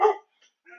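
A pet dog gives one loud, short bark up close, followed by a couple of fainter yips after a brief pause, with no talk over it.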